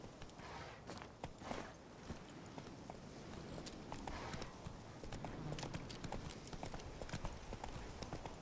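Roach, Geralt's horse in The Witcher 3, clip-clops steadily at a walk, hoofbeats fairly close and continuous against a busy outdoor game ambience.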